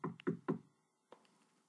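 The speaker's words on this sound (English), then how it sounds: "Soon Little Red Riding Hood knocked on the cottage door." Three quick, firm knocks on a wooden cottage door, close and evenly spaced, followed by a short pause and one fainter thump.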